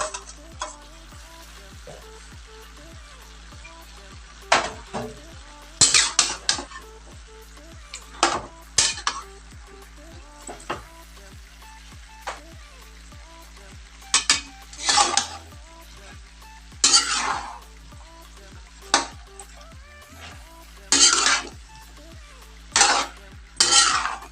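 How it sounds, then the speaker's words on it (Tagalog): Mixed vegetables, four kinds together, sizzle steadily in a frying pan while a utensil stirs and scrapes against the metal in repeated bursts of clinks and scrapes over the constant frying hiss. "I-mix nyo na lahat yung 4 na gulay. Sabay-sabay nyo na paglagay."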